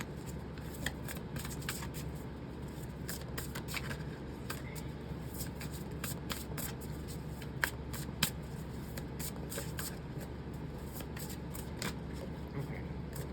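Tarot cards being shuffled by hand, a steady run of soft riffling and papery slaps close up, with a few sharper card snaps near the end and no talking.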